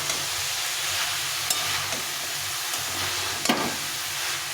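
Finely chopped cabbage sautés in a pan for a fish-head cabbage ghonto, with a steady, close sizzle and a few soft scrapes and clinks as it is stirred.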